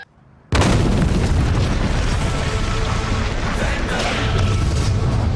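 A large ammonium nitrate explosion blows up a caravan, a sudden loud boom after a brief quiet that rolls straight into a sustained, roaring blast rumble lasting several seconds.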